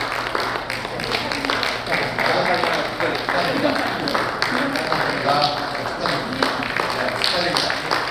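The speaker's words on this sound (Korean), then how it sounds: "여기 오늘 지금 오신 분들 박수 한번 주세요" Audience applause at a Korean War 73rd anniversary memorial service, a steady dense clapping that runs throughout at moderate loudness, with a voice speaking over it.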